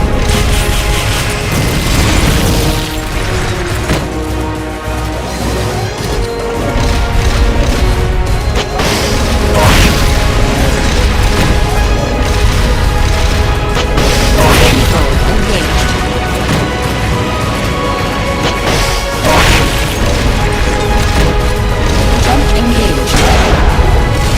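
Rocket launcher fire in Metal Gear Solid: Peace Walker: repeated heavy booming blasts and mechanical clanks punch through a loud, dense game soundtrack, spaced every few seconds across a long stretch.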